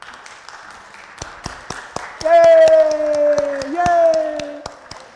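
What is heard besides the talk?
congregation applauding in church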